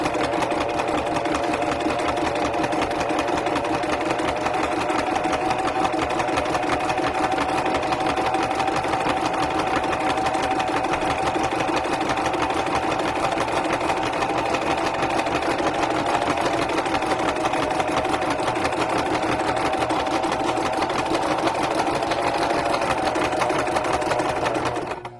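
Sewing machine stitching a fabric journal cover, running in one long continuous steady whir with a fast mechanical needle rhythm, close and loud for about twenty-five seconds before stopping.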